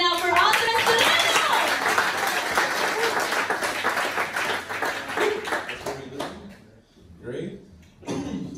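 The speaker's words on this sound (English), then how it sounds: "Everyone clap it up right now for Andres Pinedo!" An audience claps loudly for a comedy performer, the applause dense at first, then thinning and fading out as a voice begins talking over the tail.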